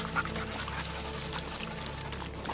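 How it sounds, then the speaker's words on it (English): Hunting dogs from a South Texas hog hunt pant quickly and steadily during a water break, close by, with faint whimpers over constant outdoor background noise. "James rewards his dogs with another water break."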